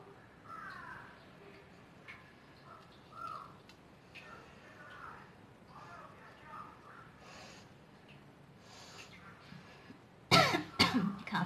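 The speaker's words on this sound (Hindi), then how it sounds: "खांसी हो रही, छींक नहीं हो रही" A person coughing during a chili-eating sneezing challenge, with faint scattered vocal sounds and throat noises at first, then a loud burst of close harsh coughs near the end.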